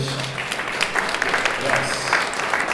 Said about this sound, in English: Can we get a round of applause for saying we're published?